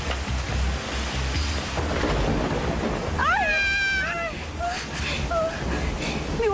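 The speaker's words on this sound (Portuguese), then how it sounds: "É que o barulho dos trovões me dá medo." Thunder rumbles deep and low during a storm with rain falling, while voices talk over it and a brief meow-like cry rises partway through.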